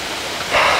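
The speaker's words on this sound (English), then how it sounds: "behind there is big water stream, you can say, is flowing" The Bishnu River at Bishnu Dwar in Kathmandu, Nepal, rushing as a big water stream, a dense broad hiss of flowing water that swells slightly louder partway through, with no talk over it.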